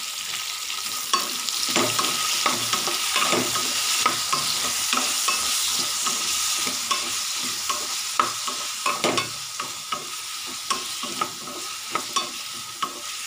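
Onions and tomatoes sauté in a pan for bitter gourd curry, with a steady close sizzle. A spoon scrapes and clicks against the pan again and again. Nobody speaks.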